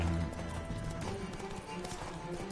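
A galloping horse in a Witcher 3 horse race drums out quick, steady hoofbeats, mixed in with busy game audio across a short burst.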